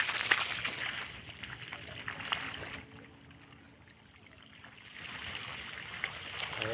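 Water streams and trickles steadily while garden plants are watered, dipping briefly in the middle before continuing.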